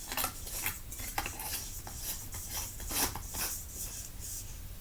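A light bulb is twisted into a lamp fitting for an indoor plant setup, giving light scraping, rubbing and small clicking contacts spread across the clip, close and fairly quiet.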